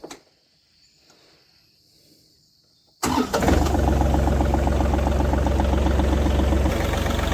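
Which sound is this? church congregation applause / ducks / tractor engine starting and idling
tractor engine starting and idling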